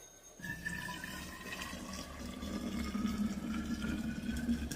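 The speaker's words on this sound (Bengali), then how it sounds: "এবার আমি জলগুলো ঢেলে নেব" Boiled water poured out of a saucepan, a continuous splashing, gurgling stream that starts abruptly and grows slightly fuller as it goes, close and moderately loud with no speech.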